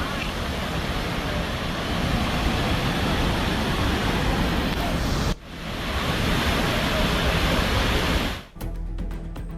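A river flowing beside houses in Nepal, a loud, dense, continuous rush of water close by, with two brief dips where the sound cuts away.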